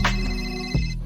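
A telephone rings with a bright, tonal electronic trill, loud and close, in two short bursts with no talking.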